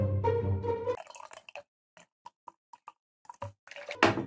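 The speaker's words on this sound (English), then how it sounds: "Go ahead and pour myself a nice drink." A Pepsi drink is poured in the video game Project Kat: after a voice fades out, a sequence of small separate liquid drips and plops follows, then a louder splashy burst at the end.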